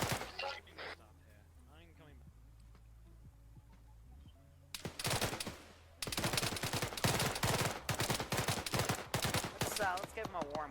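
Machine gun fire in the ArmA 3 video game: bursts of rapid shots, quieter early on under someone talking, then louder, dense sustained firing in the second half.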